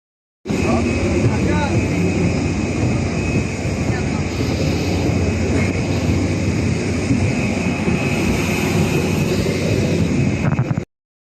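Steady, loud jet engine roar of an airliner while passengers board, filling the whole stretch as a continuous broadband rumble and hiss, with faint voices under it.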